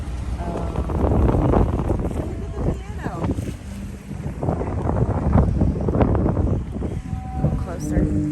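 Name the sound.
wind blowing at the seaside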